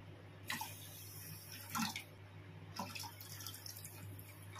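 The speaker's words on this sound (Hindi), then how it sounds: "इसमें 3 कप पानी ऐड करेंगे हम।" Water pours from a vessel onto one cup of sugar in a pan to make syrup for an Indian dessert, splashing in a few short bursts over a steady low hum, close and fairly quiet, with no voices.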